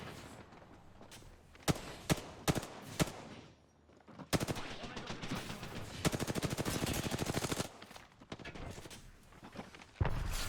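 Gunfire in the Apex Legends video game: several sharp isolated shots early on, then a sustained rapid burst of automatic fire, with scattered further shots near the end.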